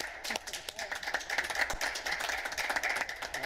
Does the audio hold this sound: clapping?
yes